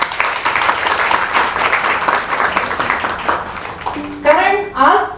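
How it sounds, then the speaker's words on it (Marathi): Clapping from an audience at a women's event, a broad continuous patter of applause that fades toward the end as a voice speaks over it. "ही पहिली म्हणजे तुमच्यासाठी जोरदार टाळ्या व्हायला पाहिजे."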